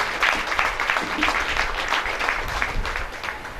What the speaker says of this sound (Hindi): उसके लिए एक बार जोरदार तालियां हम सबकी ओर से